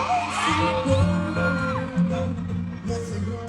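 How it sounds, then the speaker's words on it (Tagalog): A crowd of fans yells and whoops loudly for Daniel Padilla, overlapping shouts and cheers rising and falling in a noisy burst. "Parinig nga ulit natin kay Daniel ang hiyaw."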